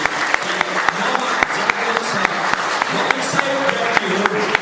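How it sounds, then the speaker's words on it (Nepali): A congregation at a Nepali church sermon claps for itself, a dense, steady round of applause filling the whole stretch, with faint voices mixed underneath. "त्यसकारण एकपल्ट हजुरले आफ्नो निम्ति पनि ताली बजाइदिनुहोस् न।"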